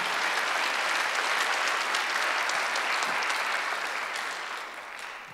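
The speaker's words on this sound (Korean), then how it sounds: "믿는 사람만 박수 주세요." A church congregation at a Sunday worship service claps together in a sustained, even wash of applause that tapers slightly toward the end, with no voices over it.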